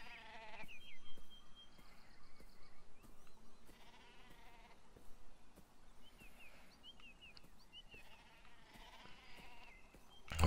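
Sheep bleat in the video game Beyond Eyes, several scattered calls at moderate distance over a soft ambient game soundscape, with no talking.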